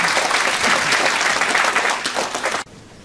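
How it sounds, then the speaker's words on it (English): An audience at an architects' evening event applauds the guest speaker's introducer, a dense burst of clapping that thins out and stops abruptly near the end. "Let us give her a big round of applause."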